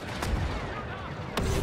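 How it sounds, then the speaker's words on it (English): Explosions and heavy gunfire from a Star Wars: Battlefront 2 match as a firepower-heavy MTT is occupied, two sharp blasts standing out over a continuous loud roar of battle noise. "That's what all those explosions were."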